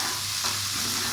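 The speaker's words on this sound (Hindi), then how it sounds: "और इसको इतना अच्छी तरह मिक्स करें ताकि भिंडियों में भी सारा मसाला शामिल हो जाए।" Okra fries in a pan with spices while a spoon stirs it, a brief steady sizzle with a soft scrape of the stirring close by.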